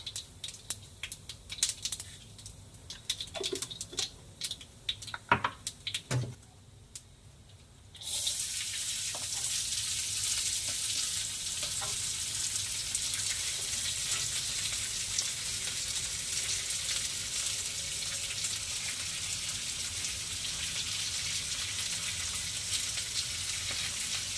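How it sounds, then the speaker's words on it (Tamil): A few scattered clinks and taps, then a loud, steady sizzle of mustard seeds frying in hot oil bursts in and continues without pause. "எண்ணெய் நல்லா காஞ்சிருச்சு இப்போ கடுகு"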